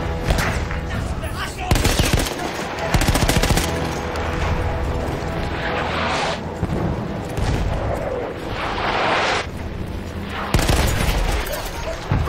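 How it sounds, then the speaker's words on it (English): Machine gun fire in the WWI shooter Battlefield 1, sustained bursts of rapid gunfire layered with heavy booms and explosions, loud and dense throughout, with faint voices underneath. "Tomahawk has a machine gun"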